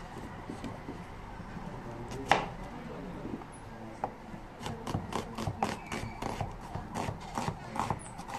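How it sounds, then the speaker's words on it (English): A knife chops an onion into small pieces on a board with a fast run of close, dull taps that grow more regular toward the end. "And an onion, small chop."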